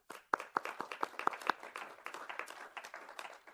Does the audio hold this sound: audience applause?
yes